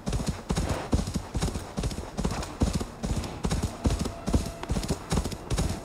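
A horse gallops in Assassin's Creed Valhalla, hooves pounding in a steady, loud clip-clop rhythm close up for several seconds, with a faint whinny and no talk over it.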